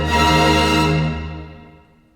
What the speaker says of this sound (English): we grow towards a climax and a fanfare rhythm that sounds like this.